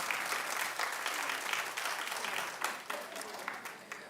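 A television talk show's studio audience claps in a dense, steady burst that fades slightly toward the end.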